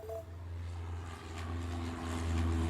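Propeller planes in the airport game Airport Madness drone with a steady low engine hum, faint and continuous, with no voices.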